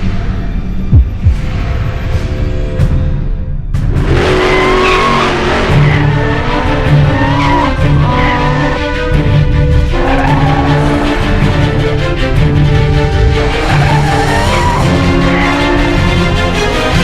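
Formula Drift Pro Championship cars at the Long Beach round, a steady loud roar of engines with tonal tire squeal and screeching layered over a dense rumbling crowd and track ambience, continuous throughout.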